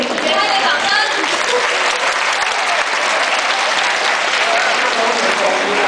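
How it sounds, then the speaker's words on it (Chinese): Audience applause at a live concert, honoring the performer's mother in the crowd: steady, dense clapping fills the whole stretch at close range with no other sound standing out. "给她一个掌声。"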